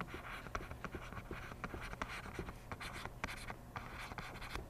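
A physics diagram showing top and front views being drawn by hand, with close, continuous scratchy pen or marker strokes in quick irregular bursts and no speech.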